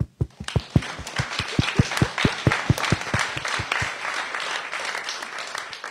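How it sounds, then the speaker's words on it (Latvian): An audience at a panel discussion claps in a fast, even rhythm of sharp near claps for about four seconds, then the clapping tapers off into quieter scattered sound. "Es piedāvāju aplausus."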